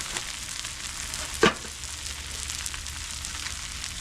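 Steady sizzling on a hot outdoor griddle at a backyard cookout, with one brief sharp clack as patty melt buns are set down, then the frying hiss carries on evenly.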